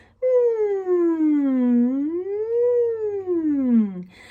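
A single voice slides smoothly down, up and down again in pitch, a siren singing exercise imitating a wailing siren, loud and close.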